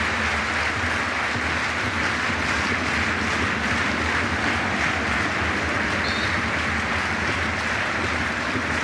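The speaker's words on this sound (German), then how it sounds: "Rapid-Fans klatschen jetzt ihre Viertelstunde ein." Rapid football fans in a stadium during a match against Wacker Innsbruck keep up a continuous, distant roar of clapping and crowd noise, a broad steady wash that never lets up.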